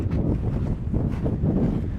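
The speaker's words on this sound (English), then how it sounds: "because it's very, very windy." Strong Caribbean wind in Aruba buffets the microphone with continuous low, rumbling gusts that pulse unevenly, with no one speaking.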